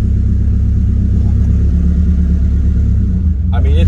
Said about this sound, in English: I just squealed the tires in reverse because I'm so not used to this clutch